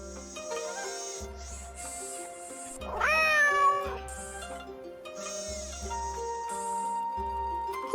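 A robotic cat in the Nancy Drew game Shadow at the Water's Edge gives a series of synthetic, wavering meows over a soft looping musical backdrop, with one longer, higher-pitched cry in the middle.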